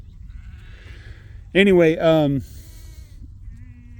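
Sheep bleating twice in a loud, wavering call near the middle, close by, with a faint voice and outdoor background around it.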